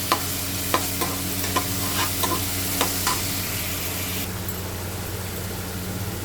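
Mutton curry masala with ginger paste and salt frying in oil, a loud continuous close sizzle with a series of sharp spatula taps and scrapes in the first half, no speech.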